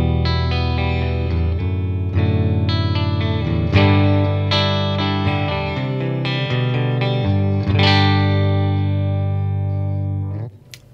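Clean electric guitar through a Peavey Vypyr Tube 60 amp on its Fender Twin clean model, played alone as warm sustained chords and picked notes for about ten seconds, loud and close, ending with a short fade.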